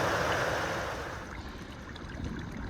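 Stream flowing at a water source along the Appalachian Trail on a sunny day, a steady close rush and gurgle of water, with no talking.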